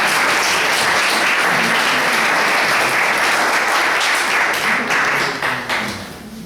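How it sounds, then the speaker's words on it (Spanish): An audience at a book presentation claps in loud, sustained applause, a dense even patter that holds steady before tapering off at the end. "recibámoslo con un aplauso"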